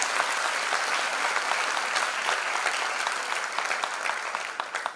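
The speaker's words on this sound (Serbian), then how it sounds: "Molim jedan poseban aplauz za njih." Steady audience applause fills a concert hall honouring a folk singing group at an ensemble's fifteenth-anniversary concert, dense and continuous clapping at moderate distance that thins slightly toward the end.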